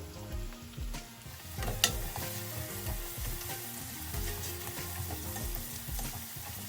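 About 250 grams of thinly sliced onion and green chili frying in oil for a prawn biryani: continuous crackling sizzle with occasional stirring scrapes, close and steady, with no talking.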